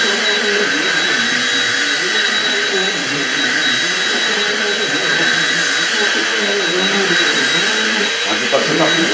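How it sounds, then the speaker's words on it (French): A vacuum cleaner run over a mattress to clear out dust mites makes a steady, loud, whining drone that holds without a break, with a voice talking over it. "Donc vous passez votre aspirateur."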